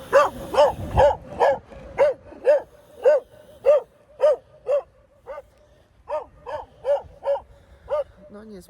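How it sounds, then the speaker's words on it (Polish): A dog barks repeatedly in a steady rhythm, sharp yapping barks close by, pausing briefly midway before resuming, with no talking. "psy na mnie szczekają"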